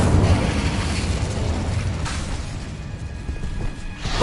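Explosive spells burst in the video game Hogwarts Legacy, a loud low boom at the start that rumbles and fades, followed by softer crackling blasts.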